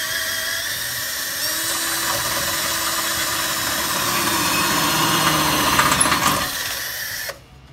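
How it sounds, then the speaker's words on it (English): A power drill with a 3/8 inch bit bores through the pre-drilled hole in a Jeep Patriot front support brace, a steady high whine that climbs and strains as it cuts, then stops abruptly near the end. "you're just going to follow the pre-drilled hole in the brace with a 3/8 bit, and you're going to go through the pre-drilled hole"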